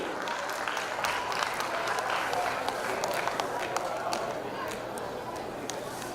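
An audience at a school's annual prize day ceremony applauding teachers, a sustained round of many clapping hands heard at moderate distance while an announcer keeps speaking over it.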